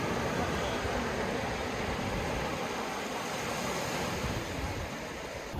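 Sea waves wash onto the shore at Digha beach as a continuous, loud roaring surf blended with morning wind buffeting the microphone, with no voices.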